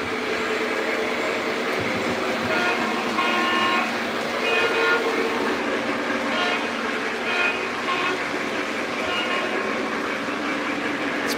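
A Lionel model train in Penn Central livery runs steadily on its track, a continuous rolling rumble with a brief horn-like tone, close and moderately loud throughout.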